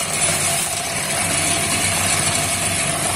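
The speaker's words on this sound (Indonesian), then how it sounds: "Tidak terlalu berisik juga karena ini kan motor listrik ya, bukan diesel yang bunyinya besar." An electric motor drives a cement-mixer drum converted into a maggot roasting machine, giving a continuous, even mechanical hum and rattle with no pauses or voices.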